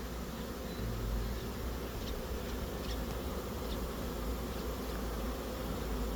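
A dense, steady hum of many honeybees buzzing together, continuous and fairly close, with no talking.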